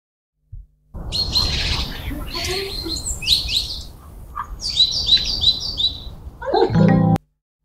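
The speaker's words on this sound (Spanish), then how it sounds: "Sonidos de pajaritos enlatados" High, bright bird chirps and tweets in repeated bursts over a steady hiss, ending with a few lower squawky calls before cutting off abruptly.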